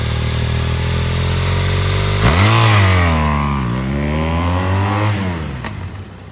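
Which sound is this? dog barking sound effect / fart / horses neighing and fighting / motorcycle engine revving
motorcycle engine revving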